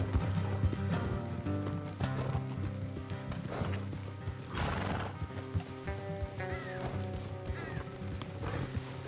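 Horses gallop in the open-world game Red Dead Redemption 2, with steady, dense hoofbeats, occasional neighs and a continuous layered game soundscape underneath, no talking.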